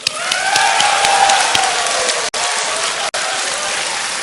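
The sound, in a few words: audience applause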